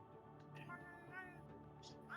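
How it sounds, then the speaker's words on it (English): A pet cat meows unhappily several times while perched on a chair, with the meows rising over a steady indoor hum and ongoing background chatter. "Kitty doesn't sound happy."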